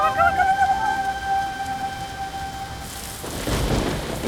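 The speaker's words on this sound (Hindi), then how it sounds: "देखो ना कितने जोरों की बारिश हो रही है।" Heavy rain with thunder in a city street, a steady wash of downpour with a deep rumbling thunder swell near the end, while a faint tonal sound fades out early on.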